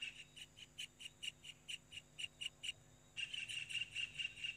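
A parent kingfisher calls to its last chick near the nest, giving a string of sharp, high, evenly spaced chirps. After a short pause the calls return as a faster, denser run, clear and fairly close.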